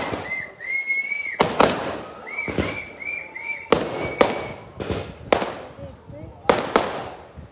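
Fireworks burst one after another at an outdoor display in Kannur, Kerala, each sharp bang cracking loudly and close, with whistling rockets rising in between.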